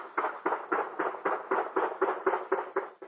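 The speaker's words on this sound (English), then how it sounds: "What you just heard were shots ringing out from Friday's deadly shooting." A rapid, steady string of about a dozen muffled gunshots rings out at a distance during a deadly shooting, each report evenly spaced and dull rather than sharp.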